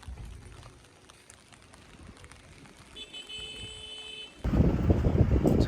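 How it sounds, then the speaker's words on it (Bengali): Rain falls at the Gumbadara viewpoint near Tinchuley, starting as a faint patter and then swelling suddenly into a loud, dense hiss of heavier rainfall near the end. "এটা একটু জোরে বৃষ্টি শুরু হয়ে গেল।"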